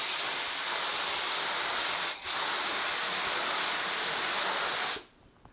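An HVLP spray gun fed from a pressure pot sprays a rough-textured booth wall coating at 25 psi, making a loud continuous airy hiss with one brief break before it cuts off abruptly near the end.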